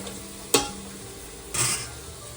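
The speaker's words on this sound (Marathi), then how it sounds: "हे 1 चमच्याच्या आसपास याला चांगलं मिक्स करून घ्यायचं." A spoon stirs masala in a pan while making Maharashtrian veg masala rice, two short scraping strokes about a second apart over a faint background, no talking.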